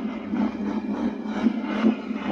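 A motorbike engine idles steadily outdoors on a trail beside a fallen log, a continuous low, slightly rattling rumble with gentle pulsing and no talk.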